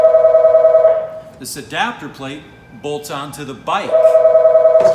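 A phone rings steadily in the background in repeated bursts at the start and end, while someone talks over it about a bolt-on adapter plate for a bike seat.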